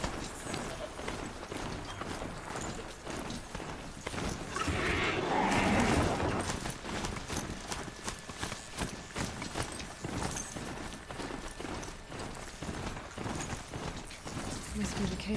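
A mount gallops in the video game Horizon Zero Dawn with rapid, rhythmic hoofbeats running throughout. A burst of louder game action in the middle and occasional voices sit over the steady pounding.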